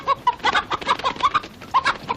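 A chicken clucks in a rapid, uneven run of short, close calls, loud and clear with no voices over it.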